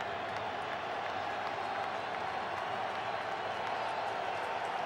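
Steady stadium crowd roar throughout an NFL game between the Colts and Bengals in 2005, a broad continuous murmur of spectators with no distinct cheers standing out, heard alone without clear talk.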